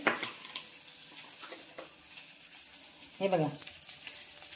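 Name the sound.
tempering spices sizzling and spluttering in hot oil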